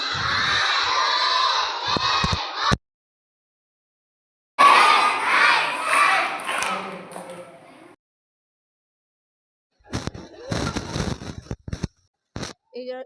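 Sunday school children at a vacation Bible school gathering shout and cheer in bursts, with loud crowd noise and scattered claps broken by silent gaps.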